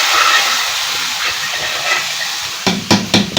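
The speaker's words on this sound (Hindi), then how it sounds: "ये मैं इसको लगाने वाली हूँ तड़का।" Loud, steady sizzling hiss of hot oil tempering (tadka) poured over nihari, close up, with a few sharper crackling bursts near the end.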